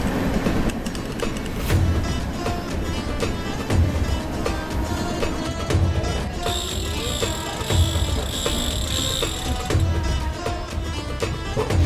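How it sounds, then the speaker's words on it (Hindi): Passenger train running through Tughlakabad railway station in India, a steady rumbling rail roar with rhythmic low thumps of wheels on track joints and a high metallic whine, loud and continuous without talk. "अभी भाई अपनी गाड़ी क्रॉस कर रही है तुगलकाबाद रेलवे स्टेशन।"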